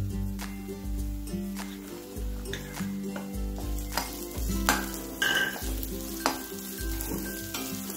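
Onions sautéing in a pan until golden, a steady close sizzle with repeated scraping stirs and occasional clanks of the utensil against the pan, no talking.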